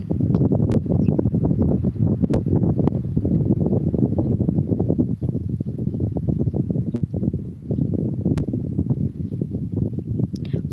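Wind blows across the microphone outdoors beside a fish pond, a steady low rumbling buffet that continues throughout without letting up.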